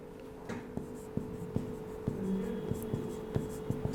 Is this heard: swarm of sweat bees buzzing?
no